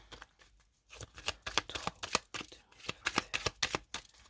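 Tarot deck shuffled by hand, a quick run of crisp riffling card flutters in uneven bursts, close and fairly quiet, with a short pause near the start.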